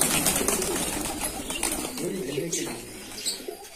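Pigeons on a busy farm of 100 to 120 birds coo and flutter their wings in a dense, continuous flock chorus, with scattered wing flaps over a steady background clamour.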